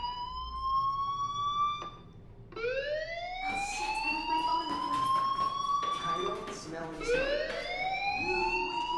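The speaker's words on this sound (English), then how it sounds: "do you hear that fire alarm? That means you should be outside." In the video game Life Is Strange, a fire alarm sounds in repeated rising electronic whoops, loud and continuous, with voices talking over it.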